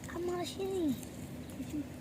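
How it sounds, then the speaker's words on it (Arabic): Birds call in open countryside during the spring breeding season: a few faint, short cooing notes, two longer sliding calls and then softer brief ones, with no voices. "اسمع صوت الطيور. طبعا موسم تكاثر هسه."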